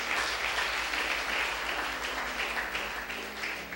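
Congregation in a church clapping during a sermon, a steady, fairly faint wash of many hands applauding together with no talk over it.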